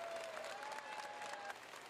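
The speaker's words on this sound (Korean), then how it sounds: "기립박수가 터져나옵니다." Standing ovation at the Nobel Prize ceremony in Stockholm, sustained applause from a large hall, heard fairly faint and distant as a continuous patter.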